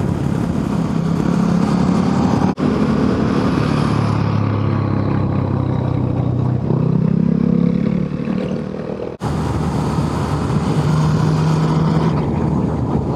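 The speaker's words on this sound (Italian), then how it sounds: "sembra elettrica sta moto. Cioè, quando non tiri un po' le marce è troppo silenziosa" Quiet motorcycle engine humming low under wind rush while riding through Sardinia, with the pitch rising and falling as gears shift and two brief dropouts.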